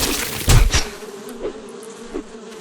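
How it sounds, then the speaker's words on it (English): Insect buzzing from a swarm of bees attacking the player in the video game 7 Days To Die, two quick louder bursts early on, then a fainter steady drone with soft thuds. "I'm being attacked by bees."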